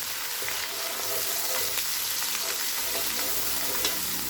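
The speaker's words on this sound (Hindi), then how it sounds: "अदरक लहसुन का पेस्ट डालेंगे 4 चम्मच। फ्राई कर लेंगे इसे।" Ginger garlic paste frying with onions in a pan gives a steady, close sizzle with faint crackles and light stirring scrapes throughout, with no voices.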